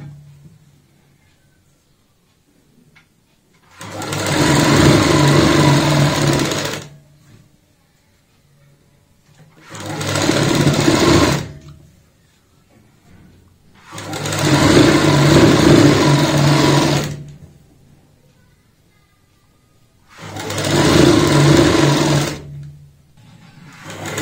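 A sewing machine stitches the side seam of a girl's frock in four separate runs of a few seconds each, a loud close whirring buzz with quiet pauses between bursts.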